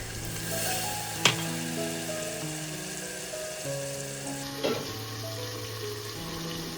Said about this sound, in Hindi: तो देखिए हमें अब अपने मसाले को बहुत अच्छे से भूनना है